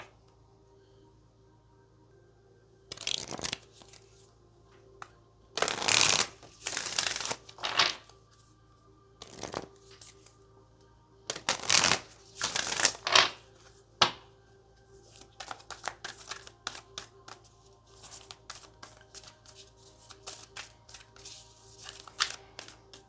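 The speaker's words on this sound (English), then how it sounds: "let's go ahead and pull some energies from the Moonology deck here" A Moonology oracle card deck is shuffled by hand in several bursts of riffling and shuffling, separated by quiet pauses, close and crisp with no talk.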